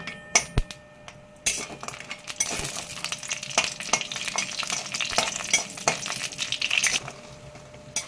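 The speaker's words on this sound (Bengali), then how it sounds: "তেলটা গরম হয়ে গেছে, এবার বড়িগুলো ভেজে নেব। এখানে আমি মসুর ডালের বড়ি ইউজ করছি।" Red lentil bori dumplings frying in hot oil for a vegetarian cauliflower-stem chorchori, a steady broadband sizzle with scattered clinks and scrapes of a stirring spoon, quieter for the first second then continuous and close.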